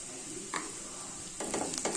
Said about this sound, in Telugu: బాగా వేయించుకోవాలండి